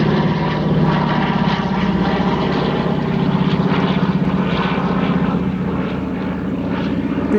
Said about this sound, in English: A couple of old bombers flying overhead.